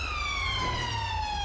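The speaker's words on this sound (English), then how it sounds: "Why is the siren stuck on?" A police car siren in GTA 5 with the UK police LSPDFR mod wails continuously and loudly up close, a steady, slowly falling electronic tone with no talk over it.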